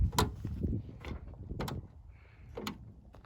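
Truck camper door opened and shut a few times in quick succession, giving short, sharp knocks and latch clicks close by, with faint mechanical rustle between them.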